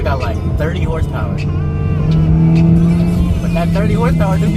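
A low-powered car with about 30 horsepower strains under full throttle, its engine droning and rising in pitch as it slowly gains speed, with people talking over the steady noise inside the cabin.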